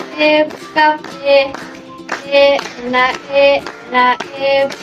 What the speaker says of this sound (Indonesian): Tapi ini sambil mohon dibantu untuk tepuk tangannya.